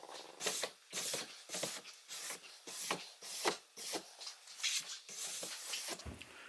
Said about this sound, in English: I really like this brass brush. It's inexpensive, it's really fine, it's really mild on the base.